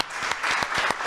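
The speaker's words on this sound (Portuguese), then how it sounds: "E vamos aplaudir o nosso Pai bem forte." A church congregation claps loudly and continuously, with a dense burst of applause filling the space and no voices on top.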